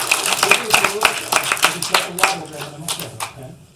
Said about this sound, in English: Everybody give Sydney a big round of applause.